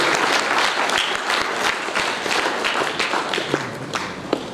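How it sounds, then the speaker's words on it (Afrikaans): A church congregation claps for Jesus during worship, with loud, continuous rhythmic clapping from many hands and a few sharper claps standing out. "Klap vir Jesus"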